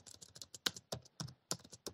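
Quick, irregular clicking of keys on a computer keyboard, close and soft, with uneven bursts of keystrokes and brief pauses between them, no voices.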